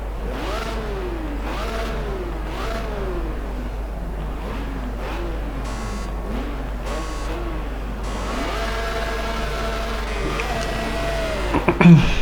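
An old BMW engine in a racing video game revs up and down repeatedly in rising and falling sweeps, loud and continuous, with a steady low hum beneath and a brief clatter at the end.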